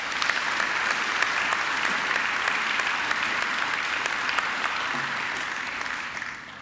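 A Macquarie University graduation audience applauds the academic representatives, a thick, continuous wash of clapping from a large hall that holds steady and then tapers off near the end.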